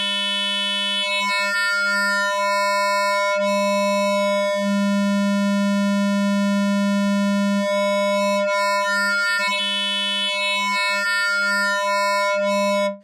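A Noise Engineering oscillator module drones a steady buzzy tone whose harmonics shift and brighten then thin out, a continuous rich electronic note swelling in intensity across the clip without any voices.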